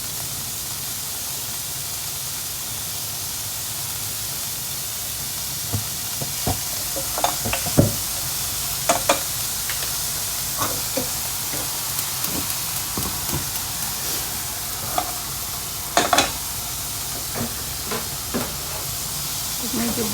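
Sliced onion fries in a pan with a steady, even sizzle and hiss throughout, broken by occasional light spatula taps and stirring clicks.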